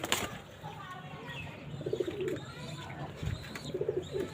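Pigeons coo softly inside their coop in low repeated bubbling calls, with a faint flutter and someone speaking quietly nearby.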